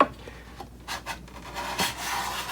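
Stanley 95 hand plane drawing short shavings across a wooden board, a few soft rasping strokes close by, separated by brief quiet gaps.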